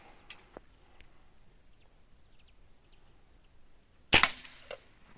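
A Hatsan Mod125 air rifle fires once at aluminium bottles outdoors, a sharp loud crack near the end followed by a brief metallic rattle, with faint ambient noise and small clicks before.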